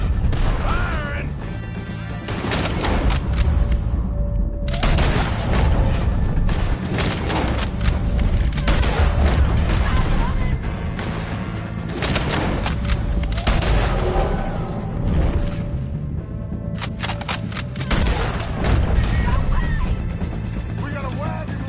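Gunfight in Red Dead Redemption 2, with repeated sharp shots and crashes in bursts over a constant busy battle din, loud and close throughout, with voices calling out between volleys.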